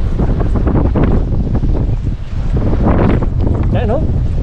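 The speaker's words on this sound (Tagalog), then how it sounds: "Lakas ng hangin." Strong sea wind buffets the microphone on a fishing outing off Al Khobar, a constant loud roar with gusts, while someone talks through it.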